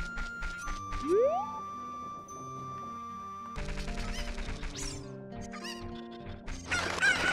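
Cucco chicken sounds from the game Zelda: Ocarina of Time, with clucks and a rising crow-like call over game music, followed by busier, layered squawks toward the end.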